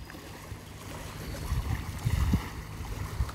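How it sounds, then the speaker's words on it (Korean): Autumn sea wind blowing along the shore at Yeosu, a low rumbling gusty rush that swells midway, steady and outdoors with no voices. "오늘은 이렇게 바람이 불어옵니다. 가을 바람이 불어옵니다."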